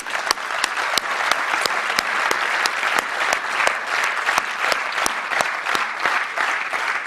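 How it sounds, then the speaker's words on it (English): Audience at a national seminar applauds, dense sustained clapping from a roomful of people with a few louder individual claps standing out, steady for the whole stretch. "A big round of applause to each and everyone."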